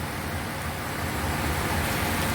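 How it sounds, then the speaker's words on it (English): Steady rain pours down outdoors while waiting beside a road for a Mazda CX-9, an even, dense patter heard close and fairly loud, with no speech. "And as you can see, it is raining."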